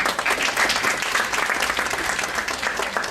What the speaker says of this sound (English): So we need to give Rabia Nizami a very big round of applause.